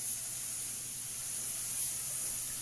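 A spray gun with a 1.8 tip lays 2-pack primer onto a BMW E30 quarter panel, giving a steady, even hiss of atomized spray that runs continuously at low level, with no talking.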